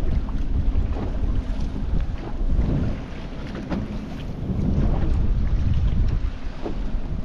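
Strong wind buffets the microphone on a small fishing boat at sea, a loud, continuous low roar with gusty swells and faint water movement underneath, no talk.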